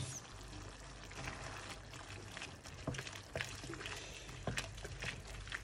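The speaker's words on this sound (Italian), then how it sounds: "quando la pasta sarà molto molto al dente, la scoliamo, la trasferiamo in padella" Cooked spaghetti is drained as a steady pour of water rushes into a sink, a close, continuous splashing stream with scattered small clatters throughout.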